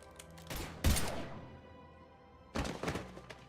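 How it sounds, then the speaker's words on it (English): Gunfire in Mass Effect 3, two heavy, booming bursts of shots with a rumbling decay between them, loud and close with no talk over it. "Now open fire!"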